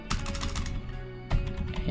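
Keys clatter in quick bursts on a computer keyboard as a command is typed into the Windows command prompt, close and fairly loud, with a brief pause before a final flurry of strokes.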